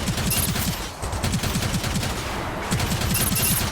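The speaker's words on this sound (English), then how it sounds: "You're just dumping rounds downrange." Rapid automatic gunfire in the video game Gundam Evolution, a dense continuous stream of shots, loud and close, running without a break under faint background tones.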